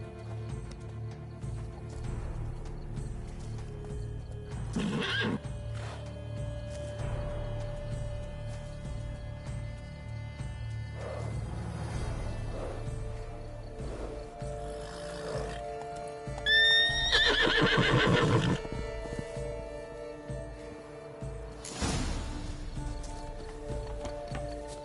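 Roach, a horse in the video game The Witcher 3, gives a loud whinny partway through, with clip-clopping hooves and snorts scattered around it over a quiet game backdrop.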